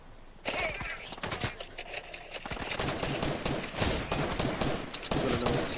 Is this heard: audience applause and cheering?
no